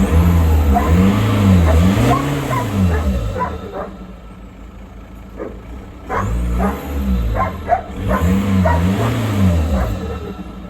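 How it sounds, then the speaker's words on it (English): A VW 2.0 TDI BKD diesel with a cold air intake revs up close in two strong bursts, its pitch rising and falling with each rev, while a dog barks in the quieter gap between them. "You can hear the turbo spooling and blow by so damn hard."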